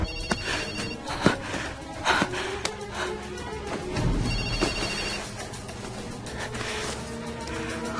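A telephone rings repeatedly in a tense domestic scene, the ring sounding in evenly spaced bursts over low background music, with no one speaking.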